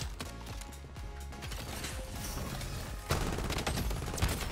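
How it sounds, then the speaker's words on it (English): Rapid, dense gunfire from the Bloodstrike shooter game fills the whole stretch, with a FAL assault rifle in play; the sustained volleys turn louder and closer near the end, with no talking over them. "I am getting shot from everywhere."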